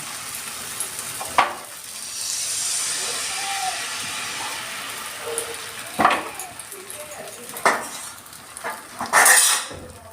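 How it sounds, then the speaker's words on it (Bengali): Spoon spreading pitha batter around an oiled pan, with a few sharp scrapes and clinks of metal against the pan over a faint steady hiss of cooking. "চামচ দিয়ে আমি এবার এটাকে ভালো করে ছড়িয়ে দিচ্ছি চারিদিকে, যাতে তাড়াতাড়ি হয়ে যায় এবং বড়ও হয়ে যায়।"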